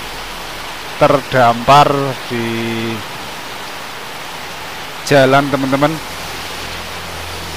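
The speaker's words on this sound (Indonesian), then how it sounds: "Ini hujannya deras banget ini." Heavy rain pours down as a steady, even hiss while someone sheltering by the road speaks in short bursts over it.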